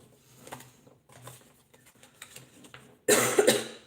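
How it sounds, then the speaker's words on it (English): Quiet scattered faint sounds, then a single loud, harsh cough bursts out close at the end. "I don't know how long that cough's going to last for"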